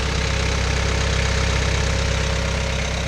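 Turbocharged Cat diesel engine of a 2002 Cat 246 skid steer idling close by, a steady low rumble with a rapid, even knock and no talk.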